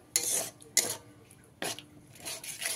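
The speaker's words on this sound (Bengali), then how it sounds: "এইভাবে ভালো করে মশলাটা আমি কষিয়ে নিচ্ছি।" A spoon scrapes and clinks against a pan while spice paste for vegetarian ghugni is stirred and fried on medium heat, in several short, distinct bursts with faint sizzling between them.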